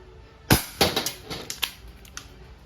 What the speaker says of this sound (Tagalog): So first is the single action, 3 shots. Firing.